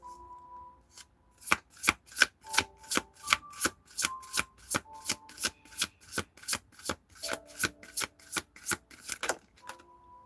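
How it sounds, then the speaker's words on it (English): Tarot cards are shuffled in a quick run of about twenty crisp, evenly spaced riffling snaps. A faint tone hums underneath and there is no talk. "Shuffle."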